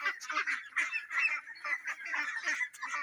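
Ducks and geese on a duck farm honk and call in a rapid, overlapping chorus, close and fairly loud, with barely a pause between calls.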